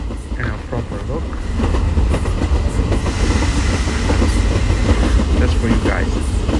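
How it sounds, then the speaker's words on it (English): A train rolls along rails through a Wild West scene in the mobile game Train Station 2, a loud, continuous rumble with rhythmic clickety-clack of wheels over the track, building slightly and holding steady. "the train is going through the Wild West site"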